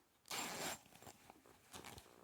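A zipper on a small sewn cushion is drawn open in one quick, close rasping pull, followed by softer fabric handling and a second brief zip-like rustle.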